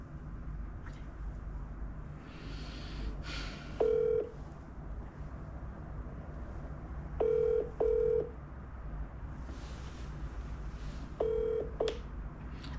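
Telephone keypad tones beep as a phone number is dialed, short pure beeps in small clusters spaced a few seconds apart, clear over faint background hiss and room noise.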